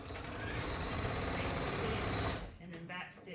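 A sewing machine back stitches a dart in fabric, running in a loud, continuous mechanical whir for about two and a half seconds before stopping abruptly. A few faint rattles follow.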